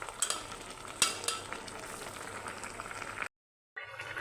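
Potato greens cooking in an open, uncovered pan give a steady, moderate sizzle and bubble with a few louder clinks of stirring, then a short total silence before the sizzling resumes.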